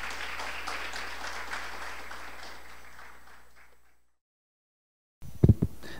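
Audience applause closing a startup-promotion lecture in a hall, a dense steady patter of many hands for about four seconds that fades out into silence, followed by a couple of sharp low thumps, like microphone handling.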